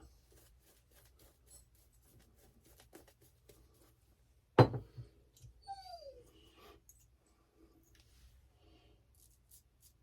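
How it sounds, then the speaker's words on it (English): A dog lets out a faint, short whimpering whine after a sudden thump, quiet and somewhat distant in an otherwise hushed indoor setting. "That wine you just heard is our, what we like to call El Doggo"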